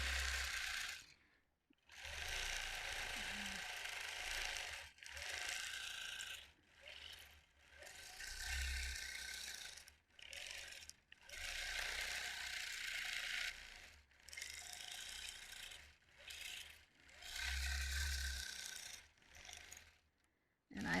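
A sewing machine stitching during free motion quilting, a close, rapid mechanical whirr in bursts a few seconds long, broken by short pauses throughout.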